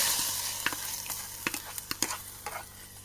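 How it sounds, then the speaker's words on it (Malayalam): Raw banana curry simmers in a pan as a spoon stirs it, with a low steady sizzle and a few sharp scrapes and taps against the pan spaced irregularly, close up with no voices. "നല്ലപോലെ നമുക്ക് ഇളക്കി കൊടുക്കാം"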